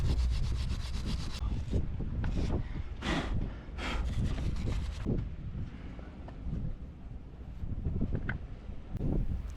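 Corroded parts from a sailboat's gypsy locker are scrubbed clean with irregular rough rubbing strokes, close and fairly faint, in short bursts separated by pauses.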